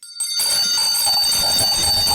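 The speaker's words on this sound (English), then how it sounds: "listen to an obnoxious fucking asshole ring bells randomly" Bells rung at random, loud and continuous, with bright ringing tones sustained throughout after a brief quiet start and no talking.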